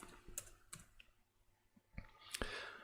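A few quiet, sparse key clicks on a computer keyboard as a short number is typed in, close and soft with pauses between the taps.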